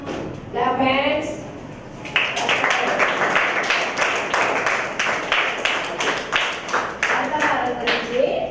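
Children at a school culture and heritage workshop clap their hands together in a dense, steady burst lasting several seconds, close and loud, with an adult voice speaking over the start.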